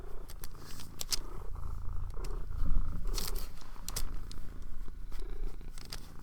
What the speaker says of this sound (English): Yeah, she's a small motor. She's like Scout was really soft when she purrs, but Pico is loud